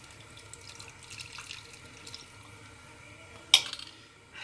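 Liquid for zerde, a saffron rice pudding, strained and poured into a pot, heard as a quiet trickling flow with one sudden louder splash near the end.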